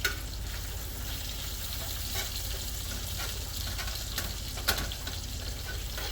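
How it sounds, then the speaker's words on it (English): A skillet of carnivore scramble sizzles steadily on an uneven cooktop while the food is mashed down, with occasional sharper knocks as the pan shifts. The sound is close and continuous, with no talking. "as I'm mashing down on this, the skillet's kind of jostling around"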